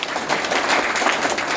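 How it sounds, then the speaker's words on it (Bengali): An audience at a company meetup gives a burst of applause, dense steady clapping from a crowd without voices. "তাদের সকলের জন্য একটা জোরে হাততালি।"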